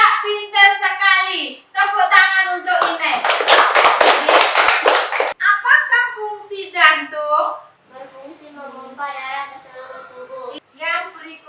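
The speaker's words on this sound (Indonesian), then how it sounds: "Tepuk tangan untuk Ines." Children in a classroom applaud in a burst of rhythmic clapping lasting a couple of seconds, wedged between stretches of an adult's speech.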